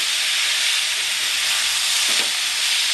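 Taro stolons cooking with prawns Bengali style in a covered pan on low heat, a steady loud hiss of steam and simmering with a faint scrape of stirring near the end.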